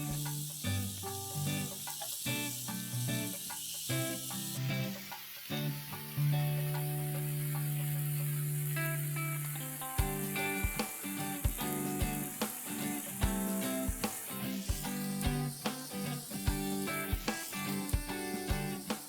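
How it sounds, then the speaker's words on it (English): Mutton pieces for Hyderabadi pathar ka gosht, turned in a pan to cook in their own juices, with a soft sizzle and a series of close utensil clicks and taps. "Now after 10 minutes, let's turn the pieces of the meat."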